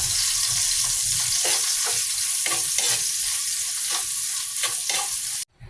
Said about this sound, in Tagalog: Igisa lang natin to ng ilang minuto hanggang sa mag-iba na yung itsura ng sibuyas